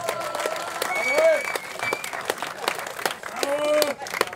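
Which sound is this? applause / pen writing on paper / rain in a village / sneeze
applause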